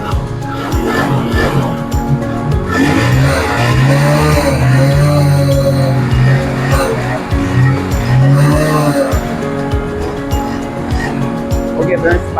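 A motorbike engine, apparently with a worn bore, starts and runs with a steady, rough, pulsing idle close by, while someone talks over it throughout.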